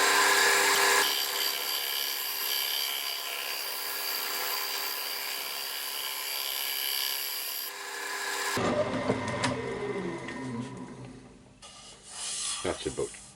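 A wood lathe turning the outer profile of a tulipwood bowl, a steady hissing rasp of the tool cutting the spinning wood, continuous and close, shifting to rougher scraping and rubbing toward the end.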